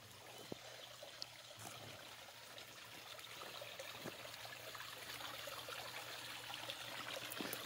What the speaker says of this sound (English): First, I'm going to head down to the stream.